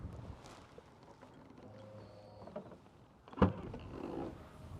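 A 2012 Skoda Superb boot tailgate pulls itself shut with its soft-close mechanism, a low motor whir followed by a single firm latching thud, fairly quiet and close.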